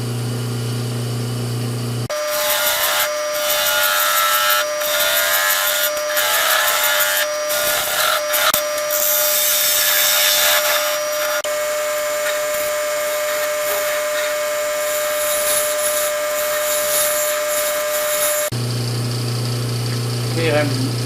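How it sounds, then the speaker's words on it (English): A wooden box spins on a wood lathe as a tool hollows it out, a sustained close scraping and cutting roar with a steady hum that runs for about sixteen seconds before stopping. "To prevent the box from flying off the lathe."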